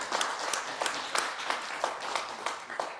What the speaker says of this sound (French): Merci d'applaudir l'amie d'enfance de Bariza Chiari